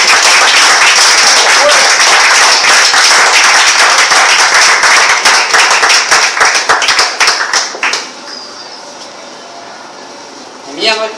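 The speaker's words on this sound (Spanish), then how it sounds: "Brindenle un fuerte aplauso," A church congregation at an evangelistic service breaks into loud, strongly rhythmic clapping in unison. It stays close and intense for about seven seconds, then fades quickly to a quiet room murmur, with a brief noise at the end.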